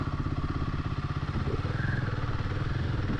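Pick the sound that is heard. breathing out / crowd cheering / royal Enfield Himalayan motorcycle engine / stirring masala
royal Enfield Himalayan motorcycle engine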